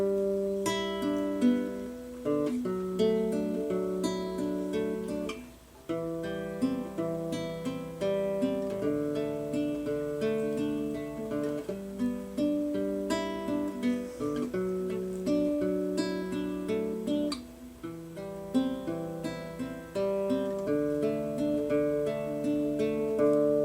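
Fingerstyle acoustic guitar plays the introduction of a song, a steady flow of plucked notes and chord tones, close and clean, with no voices throughout.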